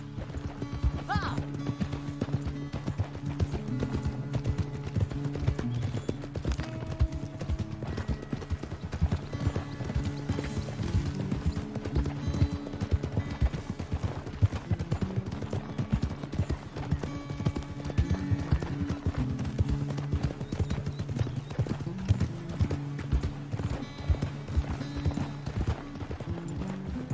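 Steady clip-clop of horse hooves at a trot in Red Dead Redemption 2, continuous and fairly close, with an occasional whinny over a busy background of rumbling ambience.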